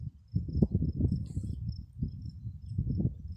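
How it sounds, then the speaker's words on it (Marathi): Honeybees buzzing around flowering plants on a farm, a close, uneven buzzing that swells and fades as the bees move between blossoms, with no talking. "बऱ्याच मधमाशी आहेत त्या फुलांवर सगळ्याच."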